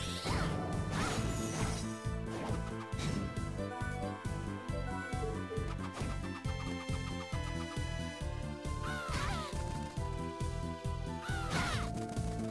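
Crow-like birds attack in a Castlevania video game, their cawing cries and repeated hit and crash effects sounding over loud, rhythmic game music.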